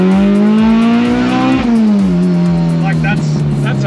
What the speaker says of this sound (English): This exhaust is loud, I'll give it that, but it just keeps revving forever.